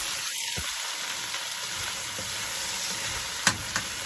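Eggs and vegetables with black pepper sautéing in a pan, a steady close sizzle throughout with a couple of sharp utensil scrapes and knocks near the end.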